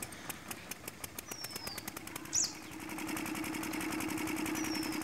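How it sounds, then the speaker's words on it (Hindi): A diesel water pump engine, freshly fitted with a new liner and piston, coughs through slow separate firing beats, then catches and settles into a steady fast mechanical chug, near and fairly loud. "तो हम आपको स्टार्ट करके भी दिखाएंगे ताकि आपको ये पता चले कि हाँ इंजन स्टार्ट हुआ है"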